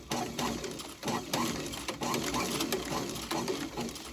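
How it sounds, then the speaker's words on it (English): A sewing machine stitches a New York casual boot during a repair, producing a close, rhythmic mechanical chatter in repeated short bursts. "the item that you're stitching moves around a lot"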